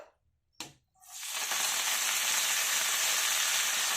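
Coriander leaves tipped into a spoonful of hot oil in a pan while making a coriander tomato chutney, bursting into a loud, steady sizzle after a brief clatter and lasting to the end.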